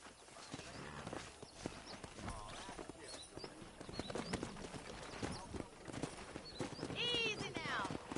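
Hooves of a pack of wild horses clip-clop in a steady trotting rhythm in the Western video game Red Dead Redemption, with a whinny near the end and voices talking over them.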